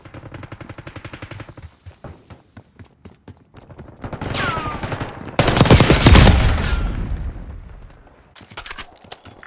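Rapid automatic gunfire in the shooter game Black Ops 6, with long bursts of rattling shots, a loud dense volley with booms in the middle, then scattered fire tapering off.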